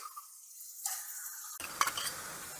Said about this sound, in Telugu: ఈ అల్లం వెల్లి పేస్ట్ పచ్చివాసన పోయేదాకా వేగనివ్వాలి